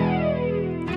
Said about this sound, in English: I've got a Kemper profile for a Roland JC 120, and it's got a chorus and a bit of flanger and some delay and reverb on there.